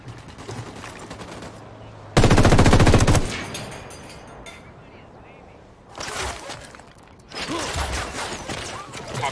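Bursts of automatic gunfire from a shootout with enemies in Ghost Recon Wildlands, loud and rapid, separated by quieter stretches with game noise and a voice.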